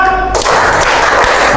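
A group in a classroom claps hands together in a rhythmic clapping game, with a loud dense burst of clapping and a few distinct thuds.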